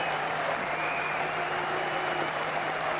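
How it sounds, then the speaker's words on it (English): A cricket crowd applauds Javed Miandad reaching his 150, a steady wash of distant clapping and crowd noise throughout. "More applause."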